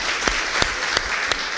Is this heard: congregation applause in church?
yes